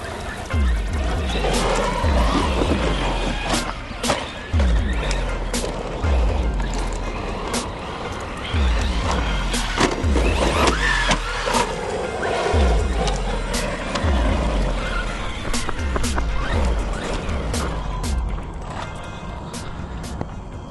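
The small electric motor of an Arrma Big Rock 4x4 223S BLX RC truck whines and strains while plastic parts creak and rattle over rough ground, with repeated bursts of acceleration and braking.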